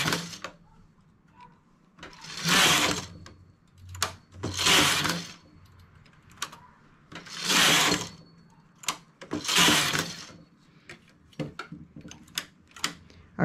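A knitting machine knits rows for a legless romper bodysuit: four loud sliding carriage passes, each lasting about a second, separated by quieter clicks and clacks of needles being set, close up with no talking.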